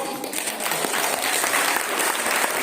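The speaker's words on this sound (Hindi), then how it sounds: "हालेलुया, ताली बजाइए" An audience at a Christian mission gathering in Malbazar, Jalpaiguri, West Bengal claps together in a thick, continuous burst that stays loud and even.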